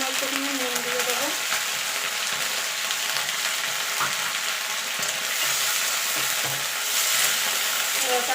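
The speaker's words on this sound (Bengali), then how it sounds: "এটাকে একটু নাড়াচাড়া করে ভাজা ভাজা করে নেব।" Malabar spinach with mitul fries in a pan, giving a continuous bright sizzle broken by irregular scraping and stirring strokes throughout.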